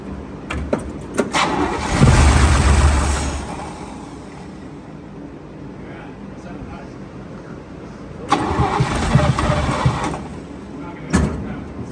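A 1970 Chevy K10 engine, parked for 30 years, cranks over without fuel in two loud bursts of starter churning with a later short crank, people talking in between.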